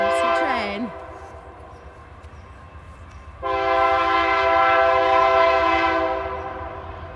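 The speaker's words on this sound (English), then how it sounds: "There's the train." A train horn sounds twice, a short descending blast and then a long sustained chord, over a low steady rumble of the passing train.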